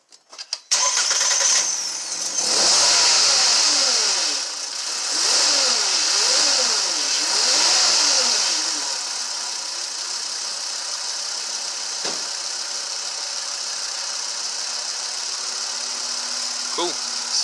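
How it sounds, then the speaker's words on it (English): VW Passat 2.5 engine cranking and catching on its first start after a MAP sensor replacement, revving up loudly then settling into a steady, even idle that runs on to the end. "it's going to be the first start up after the map sensor's been replaced"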